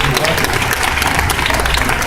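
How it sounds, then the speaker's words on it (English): Dense audience applause fills the room, a continuous crackle of many hands clapping with no pauses. "I want to applaud him for what he did with Occupy"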